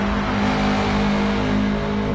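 Racing car engines revving steadily in a Subaru WRX Cup sim racing game, a loud sustained mid-pitched drone with several engines blended together and no pauses.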